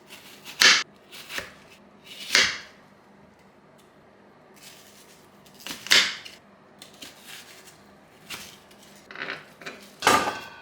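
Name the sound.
knife chopping an onion into pieces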